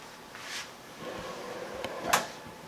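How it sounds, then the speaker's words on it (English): A drawer in the rear kitchen of a DRV 41 RKDB luxury fifth-wheel RV slides and shuts, a soft rumble followed by a brief sharp knock near the end, close by in a quiet room. "There's some drawers out here so you can see."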